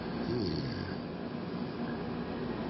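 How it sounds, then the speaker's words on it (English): A man snores in a steady, low rumbling drone in a scary internet video, with a heavy rattling breath near the start, under a muffled, noisy recording. "Is the dad snoring?"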